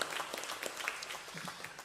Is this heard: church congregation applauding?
yes